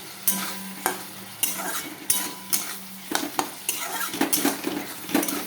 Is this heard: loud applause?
no